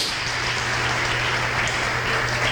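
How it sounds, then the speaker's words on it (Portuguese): A church congregation applauds in honour of an apostle, a continuous, even wash of many hands clapping, loud and sustained, with a low steady hum beneath it. "Vamos aplaudir mais forte ao Senhor pela vida dela."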